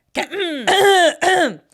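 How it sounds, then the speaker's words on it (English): One person clears their throat loudly and close up in three rough, voiced bursts, with a throaty, almost spoken quality. "Why am I clearing my throat?"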